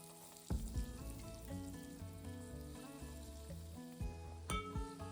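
Green chillies fry in hot oil for a spicy crab curry with a soft, steady sizzle, and a few louder spits rise above quiet background music.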